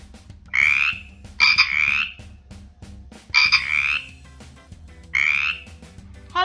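A cartoon frog croaks in four loud, close bursts spaced roughly a second apart, with a soft musical backing running underneath.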